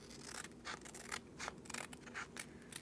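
Scissors trimming a plastic stencil sheet for sign making, a series of quiet close snips and scraping cuts in quick irregular succession.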